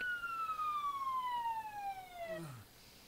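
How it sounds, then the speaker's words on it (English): A police siren in the video game Emergency 4 sounds as a single faint, drawn-out wail that slides steadily downward in pitch and winds down to silence. "one of your things has a siren on."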